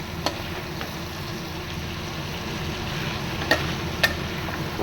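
Masala with red chili being sautéed in a pan, a low steady sizzle with soft stirring scrapes and a few sharp clicks of the spoon against the pan. No talking.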